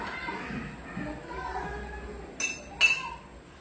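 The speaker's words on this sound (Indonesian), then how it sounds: "Coba Putri memukul botol kembali" A metal spoon strikes a glass bottle twice, producing two bright clinks a short moment apart, heard close over a quiet room background.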